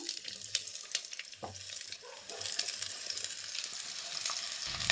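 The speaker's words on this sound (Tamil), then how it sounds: "இப்போ வந்து கோவைக்காய் வந்து நல்லா வதக்கிக்கலாம்" Ivy gourd (kovakkai) sautéing in a pan with mustard seeds, cumin and garlic, giving a steady close crackling sizzle with occasional stirring clinks throughout, no talking.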